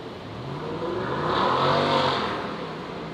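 An airliner takes off from runway 01 right at Brisbane International Airport, a distant, building roar of jet engines that swells to a peak midway and then eases off slightly, with no voices.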